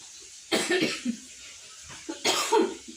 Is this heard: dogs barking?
no